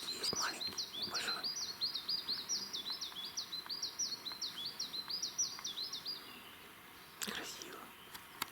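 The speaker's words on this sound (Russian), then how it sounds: "поют птицы" Small birds sing in the taiga at morning, a rapid run of repeated high chirping phrases carrying on for several seconds over a faint outdoor background, with a few louder close calls near the end.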